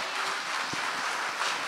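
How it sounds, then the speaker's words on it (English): Applause from an audience at a memorial music evening, a steady wash of clapping that fills the short moment, fairly even and moderately loud, with a faint voice briefly audible underneath. "a big round of applause for these young two"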